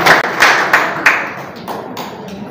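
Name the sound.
audience applause for Pak Selamat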